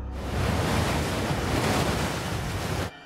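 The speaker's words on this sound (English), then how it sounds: "The only thing you can see is the white of the pounding water on the rocks." Heavy surf crashes onto rocks along a shore of the Sea of Cortez, a continuous loud roar of pounding water and wind buffeting the microphone, cutting off abruptly at the end.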